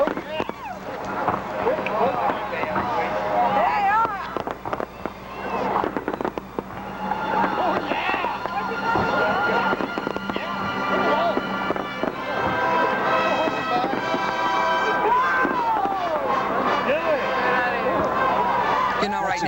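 A fireworks display at Point State Park during a Pittsburgh founders' festival, with bursts and crackles mixed with music and a crowd, while a voice talks over much of it.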